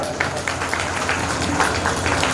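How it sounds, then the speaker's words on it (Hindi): Dense, steady applause fills an auditorium at a school's silver jubilee celebration as a crowd welcomes the sisters and fathers, a loud continuous wash of many hands. "कृपया जोरदार तालियों से इनका स्वागत करें।"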